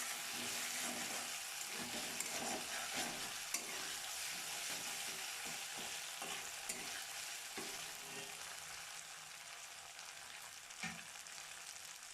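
A ground spice paste of dried red chillies is stirred in a hot pan while cooking Bengali vegetarian doi patol, giving a steady close sizzle and frying hiss with soft scraping stirs and occasional clicks.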